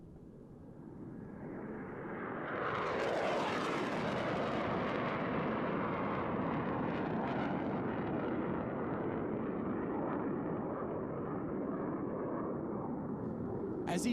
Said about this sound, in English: As each aircraft accelerates to 500 miles per hour, they will perform a reversal turn back towards the flight line